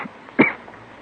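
A single short cough from a woman in an old-time radio drama, abrupt and close, followed by quiet.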